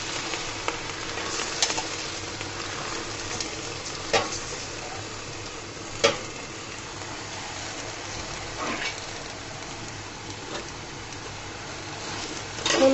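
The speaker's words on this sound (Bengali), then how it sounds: "সুন্দর করে নাড়াচাড়া করে দিব।" Washed taro leaves are stirred into fried spices in a pan, giving a long steady sizzle with occasional scraping strokes and a few sharper clanks from the spoon against the metal.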